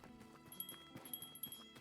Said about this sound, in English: I knew there was a horse.